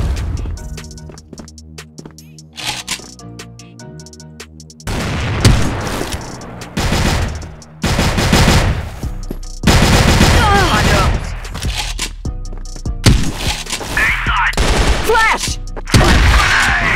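Gunfire in a video game: bursts and volleys of shots with booming hits fill the mix, loud and dense, with talk and game sounds running beneath.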